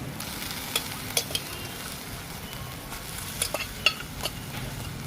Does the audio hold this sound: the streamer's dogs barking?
no